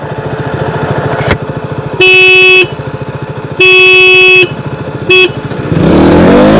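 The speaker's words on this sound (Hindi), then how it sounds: "तीन हॉर्न पर मैं बजाऊंगा तीन हॉर्न" Three loud blasts of a motorcycle horn, two long and one short, over an idling engine that revs up at the end, at the start of a drag race between a KTM Duke 200 and a Hero Splendor.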